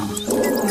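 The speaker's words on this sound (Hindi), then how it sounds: "गुस्से में आकर शेर जोर जोर से दहाड़ने लगा।" A cartoon lion caught in hunters' net roars loudly and angrily, a thick, sustained roar that swells after a brief lead-in and holds strong to the end, with no talking over it.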